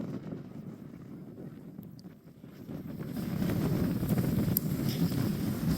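Wind buffets an outdoor microphone beside a marsh of rushes and cattails, a steady low rumble that swells louder in the second half and carries no other clear sounds.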